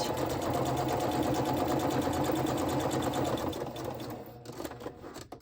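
A sewing machine runs fast and steady, stitching rows of decorative stitching on a scrappy flip flop journal base, a close continuous mechanical whir that slows and stutters to a stop near the end.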